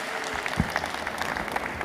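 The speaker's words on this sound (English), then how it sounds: "Please give him a big round of applause" Audience applause in a hall at a hackathon opening ceremony, ETHGlobal Bangkok 2024: a dense, steady patter of many hands clapping close by, with a few sharper claps standing out through the short burst.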